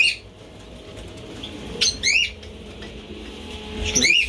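Quails flutter and flap their wings in short bursts of close, brisk wingbeats with a faint squawk, separated by quieter stretches of low background hum.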